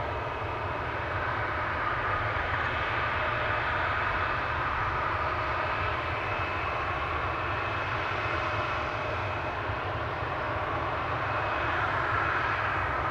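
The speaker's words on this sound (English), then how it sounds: "Cathay Pacific A350-1000 is coming this way by the looks of it" A Cathay Pacific Airbus A350-1000 jet airliner approaching Amsterdam Schiphol Airport gives a steady, broad engine roar held at an even level throughout, with no voices.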